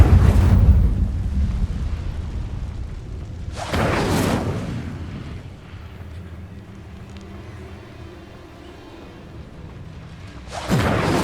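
Incendio fire spell blasts in the video game Hogwarts Legacy, three loud whooshing bursts that flare and fade, a long one at the start, another around four seconds and a final one at the end, with low rumble between.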